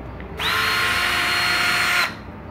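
Makita DF331DWYE 12V cordless drill driver spinning up and running steadily at a high whine for under two seconds, then stopping, loud and close with no talk.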